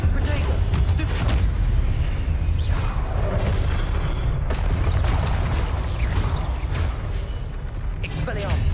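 The Protego and Stupefy spells fire in the PC game Hogwarts Legacy with layered magical whooshes, mechanical clanks and low booms. A voice talks over the continuous, fairly loud effects.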